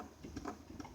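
Chevy shift interlock on the gear selector, faint soft clicks and ticks in a short burst, quiet and close with no voices.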